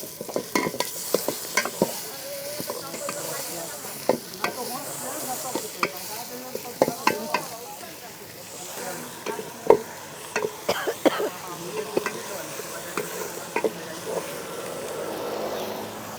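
Chicken cooking in a pan at a tribal market, stirred with repeated scraping strokes in an uneven rhythm over a soft sizzle, near and moderately loud with some faint background voices.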